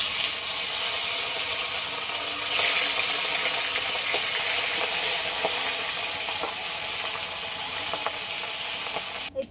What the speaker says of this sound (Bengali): তেল গরম হয়ে গেছে, এবার ফলুই মাছ দুটোই ভেজে নেব।